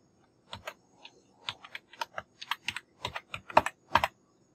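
Fingers type on a computer keyboard in uneven bursts of close, crisp key clicks, speeding up toward the end, with no speech.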